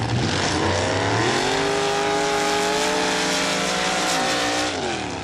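A mud truck drag races down a dirt track in Laporte, Indiana, its engine screaming loud and close as it revs through rising gears, holding a high wail before easing off near the end.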